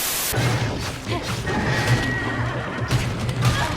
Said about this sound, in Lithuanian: Arklys.